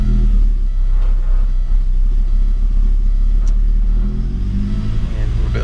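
An Audi 5000 CS Quattro engine runs close by with a loud, steady low rumble, with the pitch shifting slightly as it is revved near the end.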